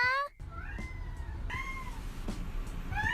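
A bobtail cat meows in a high, shrill voice, giving several rising, drawn-out cries close by, with short pauses between calls and faint room noise behind.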